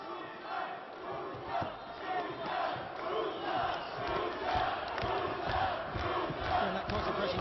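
A boxing arena crowd roars and cheers steadily through a World Series Boxing bout between Filip Hrgovic and Ruslan Mirsatayev, a dense, rolling wall of voices with swells, heard from within the venue.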